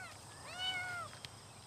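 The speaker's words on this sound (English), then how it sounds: "Is that a cat in there?" A cat gives a single drawn-out meow, fairly faint and set back in a quiet room, rising and then falling in pitch, with a small click shortly after.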